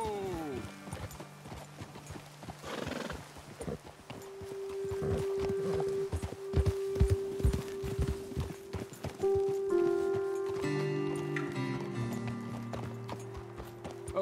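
Horse hooves clip-clop at a walking pace in Red Dead Redemption 2, close and rhythmic, with an occasional snort or whinny, mixed with a sustained music drone and in-game talk.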